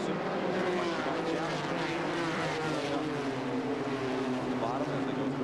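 1994 NASCAR Busch Series race cars at the Goodwrench 200 at Rockingham accelerating at the green flag, a dense, loud roar of many engines with rising tones, under a commentator's voice.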